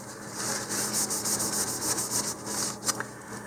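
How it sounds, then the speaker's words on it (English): Sanding dust is wiped off a Rocketarium Black Brant IVB-30 model rocket with quick, close rubbing strokes, a soft repeated swishing that pulses steadily with a couple of sharper scuffs near the end. "And we'll just wipe all that particulate stuff off."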